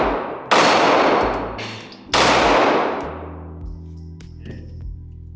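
A Glock 19 pistol fires two loud, sharp shots at steel targets, each followed by a ringing metallic clang and a long decaying echo, with faint clinks in between.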